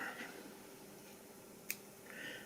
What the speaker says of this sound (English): I'm going to go ahead and cut away the excess there